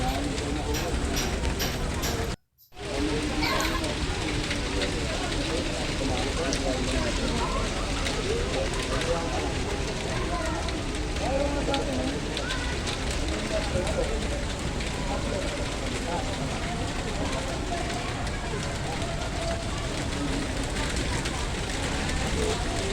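Steady, dense hiss of heavy rain falling continuously, with a brief dropout near the start and faint voices mixed underneath.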